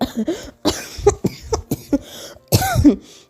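A voice imitates coughing, with a rapid series of loud, close harsh coughs and throat-clearing bursts in uneven clusters.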